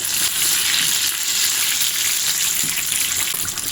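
Paneer pakoras frying in hot oil as they are flipped, a loud, close, continuous bubbling sizzle with a few soft knocks of the turning, and no talking.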